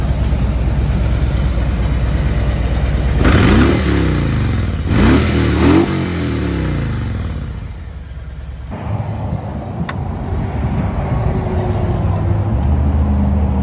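A 2018 Harley-Davidson Road King Limited motorcycle engine idles, then revs sharply in a few quick bursts before dropping back to a steady, rumbling idle.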